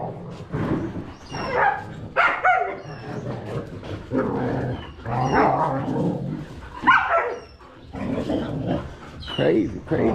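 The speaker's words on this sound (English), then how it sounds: "Crazy dogs." Several dogs bark and yip repeatedly through the whole stretch on a weekend walk in the Philippines, sharp overlapping barks mixed with a person talking to them nearby.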